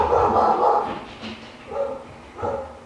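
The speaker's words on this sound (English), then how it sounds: "Sorry if you can hear the dogs barking." A few barks from dogs nearby, one longer burst followed by two short separate barks.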